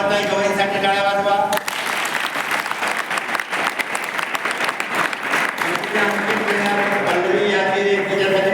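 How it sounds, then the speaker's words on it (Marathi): A school audience applauds for the Lady Governor Kamaltai Gawai, a loud, dense stretch of many hands clapping, with a voice speaking over the start and again near the end. "लेडी गव्हर्नर कमलताई गवईसाठी टाळ्या वाजवा"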